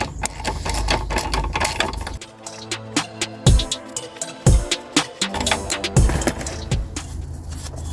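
A wrench loosens a 17 mm bolt on the front wishbone of a Peugeot 208 Phase 1, sounding as a run of close, sharp metallic clicks and ratcheting knocks in a quiet workshop, with no speech.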